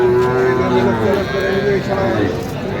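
Small bulls and heifer calves low at the Raniganj cattle market, with one close, loud, drawn-out moo filling most of the moment and a busy crowd murmuring underneath.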